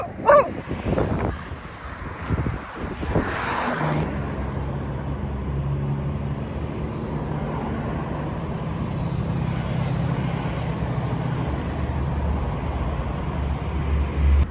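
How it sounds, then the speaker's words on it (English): Several street dogs in Colombia bark in a quick burst of loud, close yaps at the start, then drop away beneath a steady rumble of passing traffic. "the dogs just bark at me for a second"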